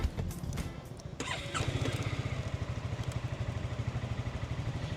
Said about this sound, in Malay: saya nak belanjakan sikit bunyi Honda Forza ataupun NS250 ni macam mana